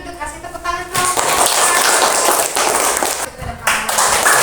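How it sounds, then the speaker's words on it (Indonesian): A classroom group applauded by classmates, quick scattered claps and taps building into a dense burst of clapping that dips briefly and picks up again, with voices mixed in. "Kasih tepuk tangan kelompok"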